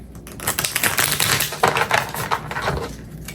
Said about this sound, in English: Let's just shuffle this deck and see what I could get.